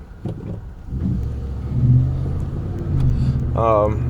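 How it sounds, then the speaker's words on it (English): A car approaching and passing on a nearby road, a rising then steady engine rumble that swells again near the end, with talk from a person close by throughout. "there's a car coming"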